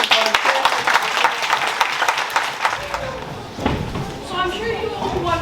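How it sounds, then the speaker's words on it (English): Audience applause at a school science week assembly, dense rapid clapping filling the first half, then thinning out as a voice begins speaking over the room. "Round of applause for this one."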